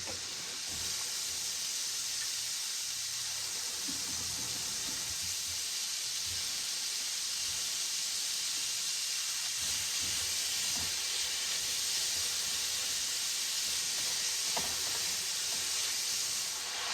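Beef steak sizzles on a hibachi grill in a dense, constant hiss that runs unbroken for a long stretch, with occasional low clanks and thumps beneath the frying.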